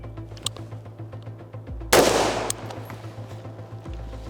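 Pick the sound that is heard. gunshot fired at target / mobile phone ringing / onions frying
gunshot fired at target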